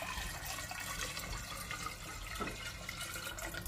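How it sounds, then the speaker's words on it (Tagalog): Water is poured into a flower vase at home, a faint, steady splashing trickle running continuously and alone at low level. "Lagyan na natin ng tubig yung base guys."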